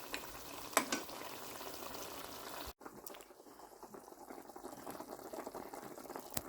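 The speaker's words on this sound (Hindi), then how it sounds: "यखनी हमारी उबल रही है अच्छी तरह से।" Mutton stock bubbles and simmers in a pot, a soft continuous fizzing and popping heard close up, with a brief clatter near the start.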